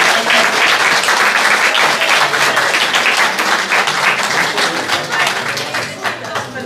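A loud, dense round of clapping fills the hall at a London poetry mushaira, many hands beating vigorously and unbroken for nearly seven seconds before easing slightly at the close.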